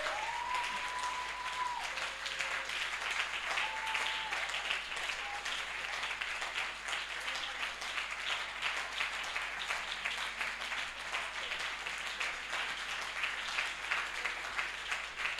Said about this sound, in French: Est-ce qu'on peut vraiment l'acclamer?